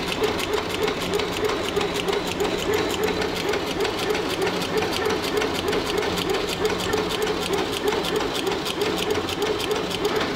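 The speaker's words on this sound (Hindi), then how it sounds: "काफ़ी तेज़ जो है गति से अगरबत्तियों का निर्माण यहाँ पे आप देख पाएंगे कि हो रहा है" An agarbatti incense-stick making machine runs at high speed, a loud, steady, rapid mechanical clatter with a fast even rhythm, continuous and close, with no break.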